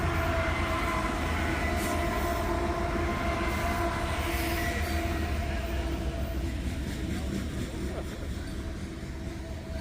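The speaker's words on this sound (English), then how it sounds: "I heard a train using its horn up ahead, but we'll see if one will actually come down through here." A train on railroad tracks rumbles steadily for the whole stretch, a continuous rolling roar with faint clatter, moderately loud and slowly easing off toward the end.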